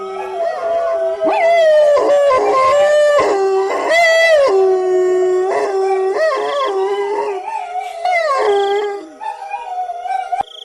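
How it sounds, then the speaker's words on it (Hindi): Several dogs howl loudly and mournfully, long wavering cries overlapping and rising and falling, with a few yips before fading near the end. "तभी वहां कुत्तों के रोने की आवाजें आने लगती हैं"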